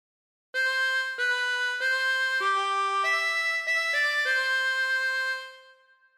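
A harmonica plays the opening phrase of God Defend New Zealand, a steady string of sustained reedy notes changing pitch about every half second, close and clear with no talking, fading out at the end.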